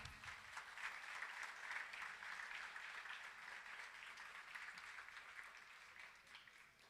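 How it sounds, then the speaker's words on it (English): An audience at a school kindergarten annual day claps steadily for several seconds, a broad, even wash of applause heard from within the hall at moderate volume. "Please clap."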